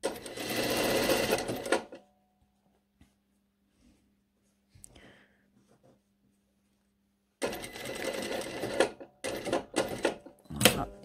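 A sewing machine stitches fabric while a ruffle is assembled onto a garment, running in a fast buzzing burst, stopping for several seconds of near silence, then resuming in short choppy bursts.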